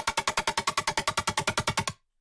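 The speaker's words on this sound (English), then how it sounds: "the lead we're going to be going over is these ping pong lead" Ping pong synth lead from a remake: a rapid, even stream of about seventeen bright, plucky staccato notes played alone, ending abruptly into silence.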